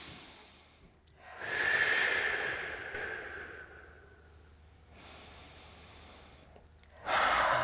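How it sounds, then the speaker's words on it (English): Deep breaths drawn in and let out during a cool-down stretch after a weight-lifting workout, two long, close airy breaths with a quieter stretch between them and a third starting at the end. "Let's take some big breaths in and out here."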